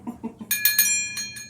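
Several bells ring in quick succession, bright metallic strikes with sustained ringing tones, close and fairly loud, after a few soft low knocks at the start.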